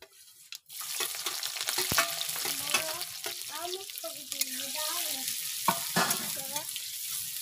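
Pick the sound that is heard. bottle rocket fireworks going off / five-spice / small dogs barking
five-spice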